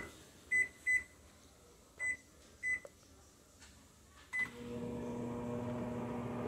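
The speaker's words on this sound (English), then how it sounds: "Just gonna show you it's a working microwave oven. You hear a fan going." A Kenmore over-the-range microwave oven gives five short beeps as its controls are pressed, then starts running with a steady fan hum and motor drone that continues to the end.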